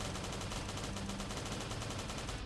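Video-game gunfire in a police-station event in Last Day on Earth, heard as rapid, evenly spaced shots in a continuous automatic burst, quiet and compressed, with no voices over it.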